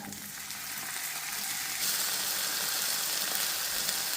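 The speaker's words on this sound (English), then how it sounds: "Now I'm going to put the tomatoes in." Tomatoes sizzle and fry in hot oil in a pan for an omelet, a steady broadband crackle that grows louder and fuller partway through, continuous and close with no talking.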